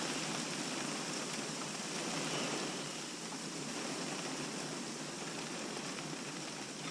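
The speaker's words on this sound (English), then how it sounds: "Heavy rain." Heavy rain mixed with sleet pours down steadily outdoors on a cold coastal fishing day, a dense, constant hiss of close, loud falling drops with no pauses.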